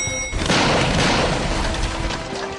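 Ostrich egg heated in a microwave bursting with a sudden loud boom, followed by a few seconds of dense crackling, rumbling debris and noise that slowly fades.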